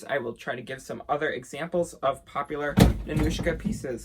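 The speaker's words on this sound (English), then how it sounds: "That was my dog slamming into my door" A dog slamming into a door, one sharp thump mid-clip, heard under continuous talking.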